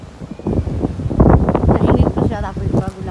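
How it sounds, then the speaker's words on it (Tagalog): Strong gusty wind buffets the microphone outdoors beside a corn barbecue grill, a loud, uneven low rumble that swells and dips under a person's talking for about three seconds. "Grabe yung hangin."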